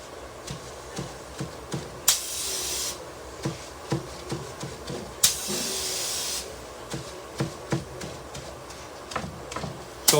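Two long hissing bursts of spray paint hit a marble pattern, separated by pauses and surrounded by a steady run of faint clicks and ticks.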